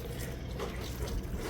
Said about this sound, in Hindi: अभी मम्मी धो रही है सब्जियाँ